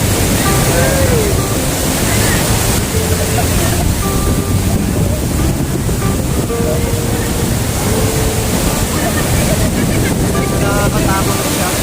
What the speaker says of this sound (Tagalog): Nakakatuwa po yung mga alon. Ang lalakas.